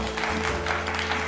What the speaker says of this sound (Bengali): এটা জোরে হাততালি হয়ে যাক।